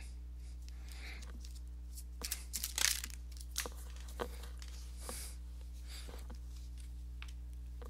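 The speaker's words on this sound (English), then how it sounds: "let me go ahead and give these cards a shuffle" Tarot deck being shuffled by hand, soft papery riffles and slaps of cards in a few short bursts over a steady low electrical hum.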